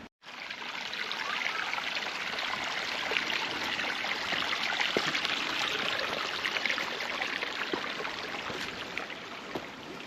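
Water trickles and burbles steadily out of rocks on rugged park terrain in Fort Richardson State Park, a close, continuous babbling stream with no voices.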